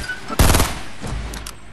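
A single loud, close shotgun blast in Fortnite cracks out sharply, followed by a few fainter, more distant shots over quiet game ambience.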